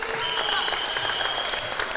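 A high school girls basketball crowd in a sectional final applauds and cheers steadily in a gym, a dense, continuous wash of clapping with a faint whistle-like tone over it and an announcer's voice underneath.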